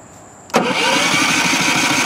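A Westinghouse iGen4500 inverter generator engine starts with a sudden loud catch, then settles straight into a steady, close running drone.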